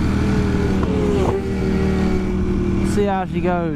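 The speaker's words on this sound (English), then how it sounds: "Let's get out on this new Street Fighter V4." Ducati Streetfighter V4 motorcycle engine running steadily on the Brands Hatch circuit among race bikes, then rising in pitch as it revs and pulls away near the end, with someone talking over it.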